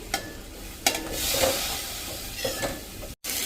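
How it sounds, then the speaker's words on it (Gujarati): Tomato pieces dropped into a hot pan of oil and spices for an onion curry, with steady sizzling and frying hiss and a few stirring scrapes, close and clear with no talk. "તો હવે આપણે જે આ ટમેટાના પીસ કર્યા છે ને એ નાખી દેશું."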